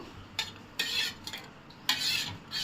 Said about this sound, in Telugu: అదే గ్లాస్తో మజ్జిగ వేసుకుందాము. తగినంత సాల్ట్ వేసుకోండి. మొత్తం కలుపుకుందాము.